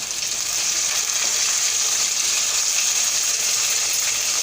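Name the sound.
onions and tomato pieces frying on a stove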